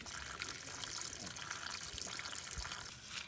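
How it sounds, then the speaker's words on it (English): Water drains from the hot and cold water lines of a Little Guy Max travel trailer being winterized, a steady, close trickling and splashing flow with no talk over it. "We're going to drain the hot and cold water lines by opening them up."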